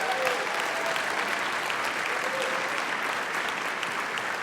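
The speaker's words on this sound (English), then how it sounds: "would you please give me a round of applause for all the music teachers in the" A concert audience at a high school band spring concert claps steadily in a sustained round of applause, a dense even patter filling the hall.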